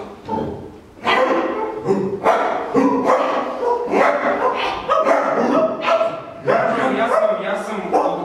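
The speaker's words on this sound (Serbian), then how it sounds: "Samo što ne laju psi." Dogs barking and yipping in a quiet rural-sounding setting, a string of loud repeated barks with short whimpers in between, close and continuous throughout.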